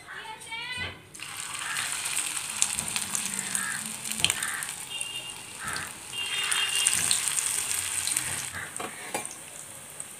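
Fish pieces fry in hot oil with a steady, dense sizzle and crackle that fills the whole stretch, loud and close, with a few brief clinks and no talking.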